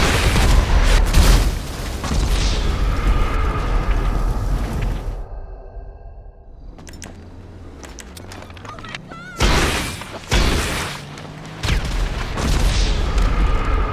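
Rocket explosions against a jet in GTA Online, heavy booms and blasts at close range, then a quieter spell with engine whine before more loud bursts.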